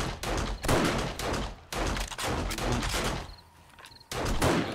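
Rapid automatic gunfire from the video game 7 Days to Die during a blood moon horde night comes in long, dense bursts separated by brief pauses, loud and unbroken by speech.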